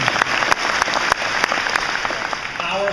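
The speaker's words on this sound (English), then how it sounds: "Give Cindy a round of applause." An audience claps for a contestant at a Jeopardy-style game show event, a burst of close, crisp applause that begins sharply and then thins slightly over a few seconds.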